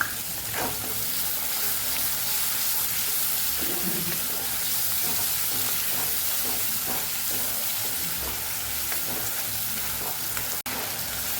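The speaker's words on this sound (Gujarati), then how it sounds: "આપણે અહીંયા ટમેટાની પ્યુરી છે એ ઉમેરી દઈશું એને પણ સરસ સાતડી દઈશું" Tomato puree sautéing with spice masala in oil for a Kathiyawadi cluster bean and potato curry, giving a steady loud sizzle with occasional stirring scrapes throughout.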